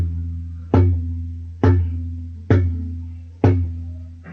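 Four evenly spaced tabla strokes, the Ge sound made with curved left-hand fingertips on the maidan of the dagga (bass drum), each a clear deep resonant boom that rings and decays before the next, played alone.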